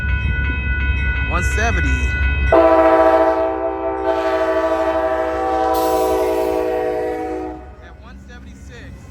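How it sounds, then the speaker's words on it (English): Amtrak California Zephyr passenger train No. 6, led by P42 locomotives, departs Reno's rail trench toward Chicago, its multi-chime horn blaring loud and steady for several seconds before fading, over rumbling engines, with a voice speaking briefly at the start. "California Zephyr train number 6 on its way to Chicago on Sutro Street."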